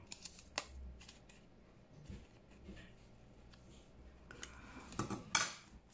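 Scissors snipping into a file folder for a junk journal, a few crisp blade clicks and cuts spread through a quiet close-up stretch with light handling noises.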